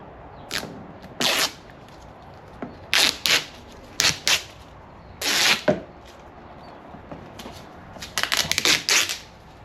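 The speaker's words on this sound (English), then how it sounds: "So first I remove the twin tape on both of the lights." Double-sided twin tape is peeled off the lights of a Can-Am Spyder, heard as several short, scratchy ripping tears close by, separated by quiet pauses, with a quicker flurry of pulls near the end.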